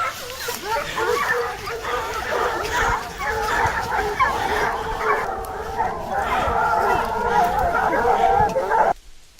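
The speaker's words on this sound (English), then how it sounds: "Our hunting dogs were active, barking loudly to signal the location of the target." Hunting dogs bark loudly and repeatedly during a wild boar hunt, a dense run of overlapping barks and yips under continuous talk, ending abruptly.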